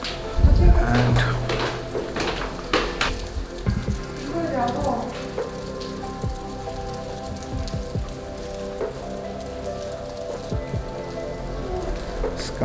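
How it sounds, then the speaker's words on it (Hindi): Steady rain falls in cloudy Kodaikanal, pattering on surfaces throughout with scattered nearby drips and knocks, and a voice comes in briefly under the wash. "सो थोड़ा सा रेन भी, बारिश भी शुरू हो गया है"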